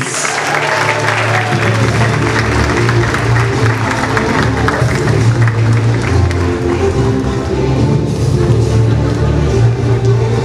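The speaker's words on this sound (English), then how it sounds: "I like a very big round of applause to ABS Transport Limited" Sustained audience applause fills a hall at a London Turkish police awards and solidarity night, dense loud clapping with crowd noise running the whole time.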